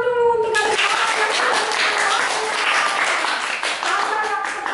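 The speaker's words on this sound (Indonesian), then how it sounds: "Kita tepuk tangan dulu untuk adik-adik." A congregation applauds the children during a church service, a dense, steady round of clapping that fills the space for several seconds after a brief tonal sound at the start.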